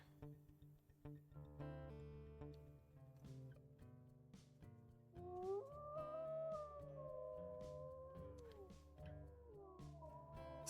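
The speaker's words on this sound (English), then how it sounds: "do a little howl" A wolf howls in the WolfQuest video game, long rising and falling tonal wails drawn out over a steady musical score, clearly in front and fairly loud.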